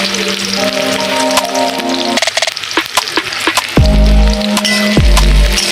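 Chopped garlic and onion fry in white oil in a wok for a chepa shutki bharta, a loud hiss broken by a brief quieter gap and several sharp knocks or scrapes before the sizzle surges again.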